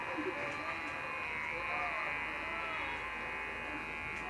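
Electric hair clippers buzzing steadily through a haircut, a continuous close motor drone running throughout while people talk nearby.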